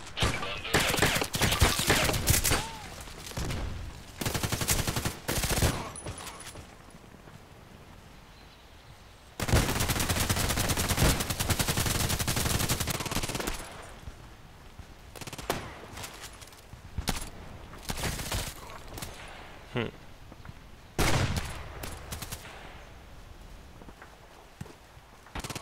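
Rapid bursts of automatic gunfire from the online shooter Contract Wars while going for headshots, with a Glock 18 in use, crackling in clustered volleys with brief pauses and scattered footsteps between them.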